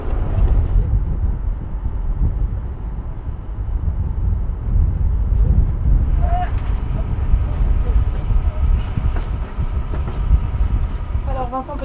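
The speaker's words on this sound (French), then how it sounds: "Aujourd'hui, on a 20 nœuds de vent de sud-est." Strong 20-knot southeast wind buffets a boat at sea in choppy water, a loud continuous roar and rumble with gusty microphone noise throughout, while voices talk over it.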